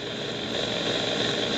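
An evacuation helicopter in the video game Zombie Simulator Z drones with a steady rotor and engine roar, constant and fairly loud, with no talking.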